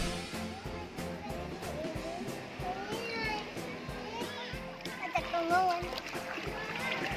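Children playing and splashing in a large swimming pool, with lively shouting and chatter throughout, water splashes mixed in, and an adult voice talking at times.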